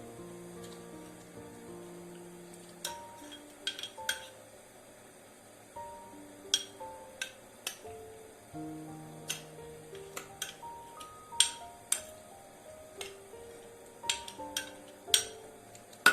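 Blended onion being stirred into a mixture in a container while preparing an onion DNA extraction, with light clinks and ticks of the stirring tool against the container scattered irregularly over a soft tonal background.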